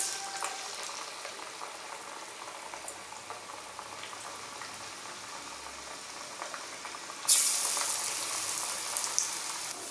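Cowpea masala vada deep-frying in hot oil makes a steady, close bubbling sizzle throughout, swelling louder and brighter near the end as the pan is disturbed.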